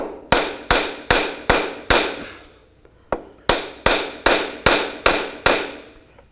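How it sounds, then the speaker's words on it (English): A small hammer delivers about a dozen sharp, ringing metallic taps close by, five in a steady rhythm, a pause, then a single tap and six more evenly spaced strikes. "And just take a little hammer, give it a little tap."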